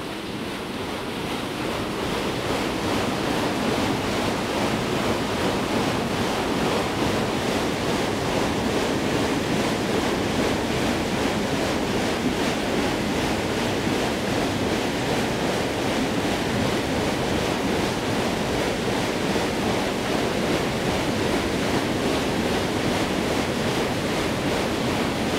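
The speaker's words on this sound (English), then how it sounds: "Great to see that water mill in motion." A water mill wheel turns on Willow Brook in Northamptonshire, with rushing water making a steady, loud broadband roar that continues unbroken throughout, no voices present.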